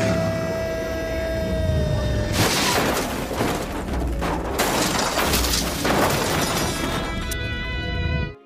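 A loud, chaotic crash of a race car smashing and flipping, metal and debris lasting several seconds, with booming impacts and scattered clatter, ending abruptly.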